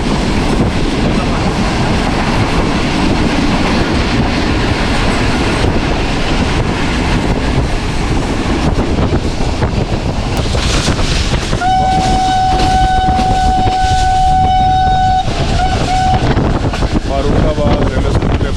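Shah Hussain Express passenger train rolling toward Lahore past green fields, a steady loud rumble of wheels on rails throughout, with a long sustained horn blast sounding midway and fading out near the end.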